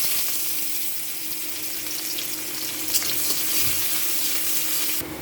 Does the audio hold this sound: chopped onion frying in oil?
yes